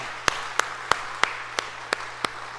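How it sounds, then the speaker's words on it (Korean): A church congregation at a Sunday morning service claps in a slow, regular beat, each clap evenly spaced and fairly soft against a quiet room with a low background hum. "다시 한번 뜨거운 박수 보내겠습니다."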